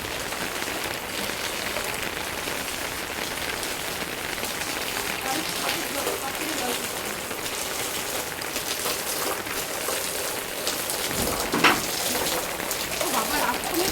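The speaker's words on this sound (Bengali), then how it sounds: "প্রচুর বৃষ্টি সকাল থেকে" Heavy rain pours down in a constant dense hiss, loud and unbroken throughout.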